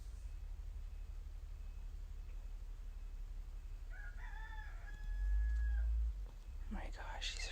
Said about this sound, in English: Oh my gosh, these roosters.